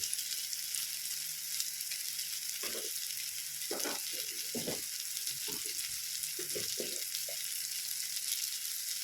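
Turmeric, black pepper, garam masala and chili powder being mixed in a hot pan for an onion puttu filling: continuous frying hiss punctuated by irregular scraping stirs, close-up and fairly quiet, with no talking.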